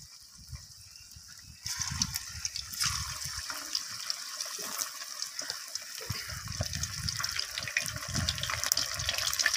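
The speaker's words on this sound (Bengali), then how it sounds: "এরপর আমি যে মাছটাকে মাখিয়ে রেখেছিলাম সেই মাছটাকে আমি তেলের মধ্যে দিয়ে দেব।" Pieces of marinated lote fish dropped one by one into hot oil in a home kitchen, setting off a loud, continuous hissing sizzle that jumps up suddenly and keeps crackling steadily.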